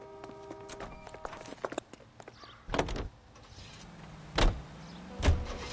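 A car in L.A. Noire is entered and driven off, with clicks and clunks of doors and latches, a couple of heavier thumps like doors slamming, and a low engine rumble building toward the end.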